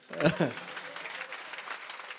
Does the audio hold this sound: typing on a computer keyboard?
no